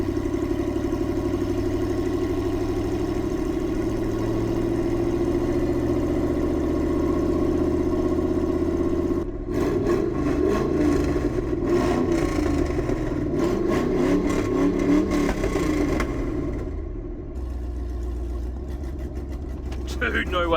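A V8-swapped Ford Ranger running with open headers and no exhaust, a loud, rough idle rumble that breaks into harsher revving and crackle midway, then settles back down, with people talking over it.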